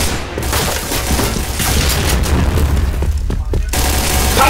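Rapid gunfire and booming blasts from a Piercing Blow online shooter match, loud and continuous with dense overlapping shots, while players shout callouts over the action.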